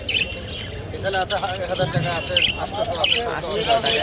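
Small birds chirp and tweet in short bursts amid a busy crowd murmur at the Mirpur 1 bird market, with people talking nearby.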